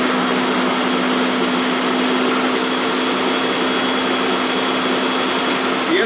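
A countertop blender whirs steadily while blending a smoothie, a loud, continuous motor drone that holds through the whole stretch with a slight shift near the end.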